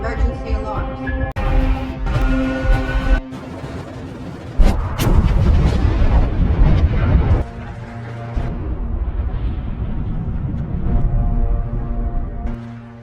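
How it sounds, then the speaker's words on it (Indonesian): Heavy booming blasts and rumbling crashes from an explosion at a nuclear facility roll through a loud, dense soundscape, with sharp bursts and a lingering low roar. "Begitu suara ledakan bergema"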